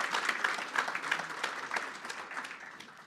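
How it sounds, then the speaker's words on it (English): An audience at a talent summit opening ceremony breaks into applause, a dense patter of clapping hands that holds at an even level for a few seconds, moderately distant. "give a thunderous round of applause to our team sitting over here"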